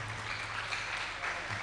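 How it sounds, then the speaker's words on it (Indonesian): Applause from the audience at a music literacy Q&A event, a steady broadband patter of many hands throughout at moderate level, with a low hum underneath. "tepuk tangan untuk Romensi"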